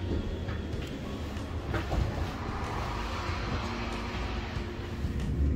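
A local train in Finland rumbles along steadily with a low, continuous roar and faint rattling, growing slightly louder toward the end.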